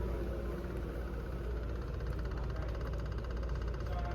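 A 2007 Buick Lucerne idles with a steady, low engine drone. A faint, rapid regular ticking from the EVAP purge solenoid, pulsing at 10% duty cycle, sits on top of the hum.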